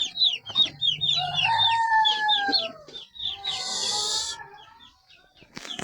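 Chickens and a rooster on a farm cluck rapidly and crow in long drawn calls, close and lively, with a brief hiss of background noise midway.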